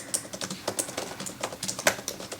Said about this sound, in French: On va tester le clavier. J'ai trop hâte d'entendre le bruit.